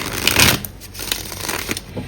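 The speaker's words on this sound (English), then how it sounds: "I was just taking some time to shuffle the cards and pray." A deck of tarot cards is shuffled by hand. Dense riffling bursts come first, then lighter, softer shuffles and taps follow, close and quiet, with no talking.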